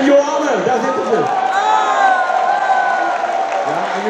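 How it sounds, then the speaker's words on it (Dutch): A festival crowd at a Winterswijk folk-fair concert cheers and applauds for two backing vocalists, a steady wash of whoops, voices and clapping that carries loudly throughout. "Geef jullie een applaus."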